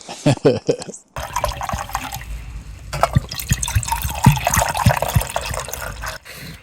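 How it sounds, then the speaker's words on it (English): Homemade mead is poured from a wax-sealed bottle into cups at a wild camp, a splashing, gurgling stream of liquid under talk. "I'll be mother and I'll pour us a bit of this then"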